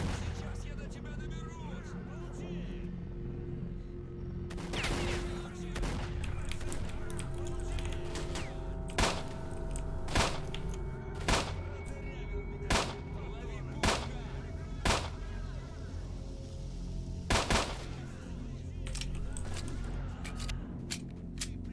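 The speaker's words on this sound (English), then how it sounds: "Random grenade off in the distance." Gunfire and blasts in STALKER: Shadow of Chernobyl, including a grenade going off far away, heard as a string of sharp cracks and thuds repeating every second or so over a steady droning background.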